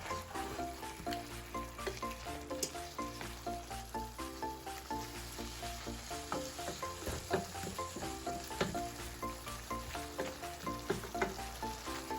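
Curry tofu sizzles and fries in a pan while being stirred, a steady close crackle with soft scraping strokes, continuous and moderately loud, with no talking.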